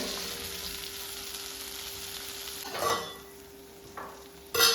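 Butter and beans sizzle in a kadai on the stove for a mixed vegetable curry, a steady low hiss with a couple of brief louder stirring scrapes near the end.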